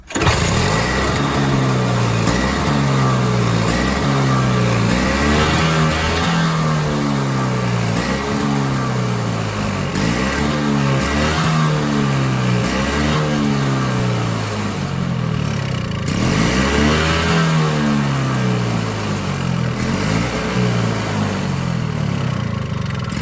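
A Toro snowblower engine with a surging fault runs loudly and close, its revs rising and falling in a steady repeating cycle for the whole stretch without any voices.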